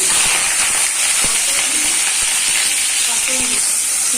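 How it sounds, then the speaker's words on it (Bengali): Bitter gourd and potato fry in hot oil with a loud, steady sizzle, broken by occasional scraping taps of a spatula stirring the pan. "একটু ভাজা ভাজা টাইপের মতন হবে উচ্ছে আলুটা"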